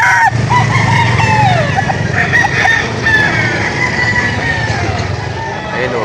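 Sweater gamefowl roosters at the Lipa auction market crow repeatedly, with honks and clucks from other fowl in a crowded outdoor setting.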